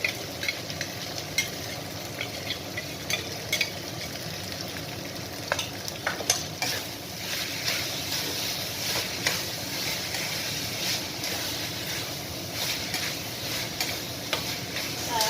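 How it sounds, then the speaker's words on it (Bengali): Boiled chicken frying with a yogurt spice paste while being stirred, a dense ongoing sizzle with frequent ticking, scraping spatula strokes against the pan, close up and steady throughout. "এরপর আমি দিচ্ছি মশলা, দইয়ের সঙ্গে যে মশলাটা মাখিয়ে রেখেছি"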